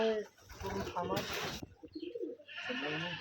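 Rajshahi Giribaz pigeons coo in low, throaty rolls among a flock, with a burst of wing flapping in the middle and a voice talking over part of it.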